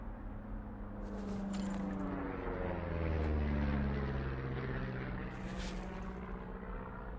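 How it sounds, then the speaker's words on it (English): A propeller airplane drones overhead in the wilderness of the video game Firewatch, a steady loud engine hum that swells as it passes and then fades slowly. "You see that plane?"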